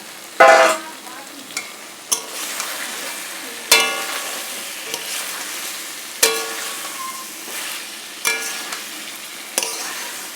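Spices frying in oil with boiled yam and potato added, a vegetarian dish being sautéed in a pan, with repeated scrapes of a spoon and a steady sizzle beneath, the stirs landing every second or two.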